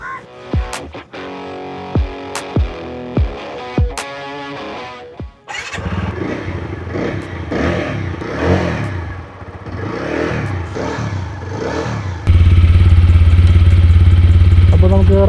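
A TVS Apache RTR 160 4V motorcycle starts with several sharp clicks, then runs with an engine note that rises and falls as it is ridden. The engine turns into a loud, close rumble near the end, with voices at times.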